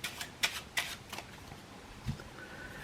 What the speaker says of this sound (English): Now we both shuffle our cards. I'll shuffle mine, they will shuffle their cards.